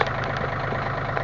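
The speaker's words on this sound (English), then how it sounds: "I'm lifting it up with the John Deere." A John Deere tractor's engine runs steadily up close while lifting a small camp building in the woods, a continuous loud mechanical drone with no talk.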